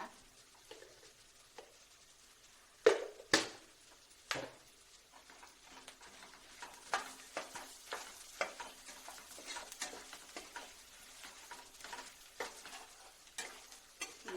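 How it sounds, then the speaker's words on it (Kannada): Spiced masala oil bubbling in a pan while making paper avalakki chooda, a soft crackle and sizzle with scattered louder pops and stirring clicks, fairly quiet and close, with no talking. "ಎಲ್ಲ ಮಸಾಲೆ ಎಣ್ಣೆ ಚಂದಾಗ ಕುದಿರ್ತೈತಲ್ಲ"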